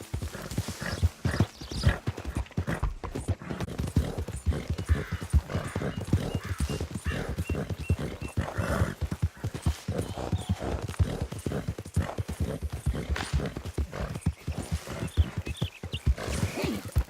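Hooves pound in a fast, unbroken galloping rhythm as a horse is ridden hard in the video game Red Dead Redemption 2, loud and close throughout, with occasional snorts and faint game ambience underneath.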